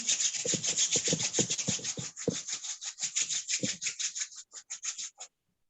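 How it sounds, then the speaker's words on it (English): Two palms rubbed briskly together during a yoga class, a close, steady series of dry swishing strokes that gradually slows and stops, with no voices. "Join the palms together and rub the palms together."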